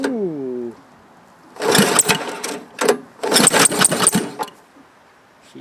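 Small replacement engine on a homemade Quadractor being started with the choke on: a brief rising whine, then several loud bursts of ragged cranking and sputtering separated by pauses.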